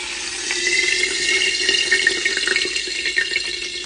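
Toasted pine nuts and hot oil being poured off to drain, a steady close trickle and splash of liquid running for several seconds with faint bubbling, no speech.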